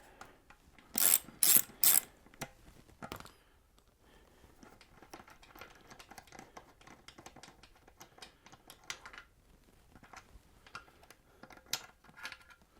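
A hand ratchet loosens a 5/16 British Standard Whitworth bolt on a barn-find BSA motorcycle, with a few loud bursts of rapid clicking followed by softer, scattered ratcheting clicks and small metallic handling sounds.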